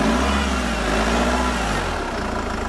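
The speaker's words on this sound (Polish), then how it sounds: "pokażmy jak ten dieselek klasyczny pracuje" A SsangYong Rexton G4 diesel engine runs steadily at idle, a continuous low rumble with no talk, heard up close from the open engine bay.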